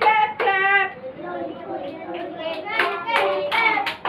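Children clap their hands to a sung nursery rhyme, a few sharp claps in quick succession close by, mixed in with young voices singing.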